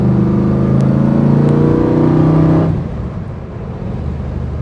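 A 1965 Shelby GT350 engine pulling loud and close from inside the car as it accelerates out of a corner, its rumble steady and rising in pitch, then easing off partway through to a quieter throb and road noise.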